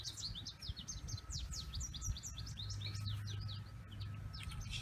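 Small birds chirp in a garden, a steady run of quick, bright tweets from close by over a low outdoor rumble, with no talking.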